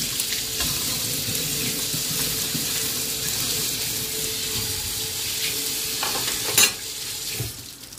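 Food frying in a pan in a home kitchen, a steady hissing sizzle throughout with a brief clatter near the end.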